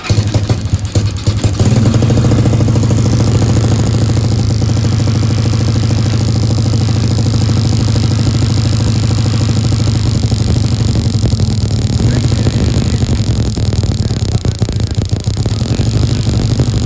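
A motorcycle fitted with a high-output ignition coil runs loud and close, holding a steady, throbbing engine note with slight fluctuations throughout and no one speaking.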